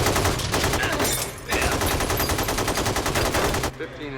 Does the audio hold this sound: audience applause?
no